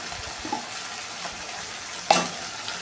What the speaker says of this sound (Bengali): এখন দিয়ে দিলাম পরিমাণ মতন আদা রসুন বাটা